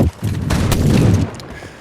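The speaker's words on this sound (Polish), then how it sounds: "gdzieś tu strzały słyszałem" Gunfire in the video game Fortnite: loud, close bursts of rapid shots blend into a dense volley that fades toward the end.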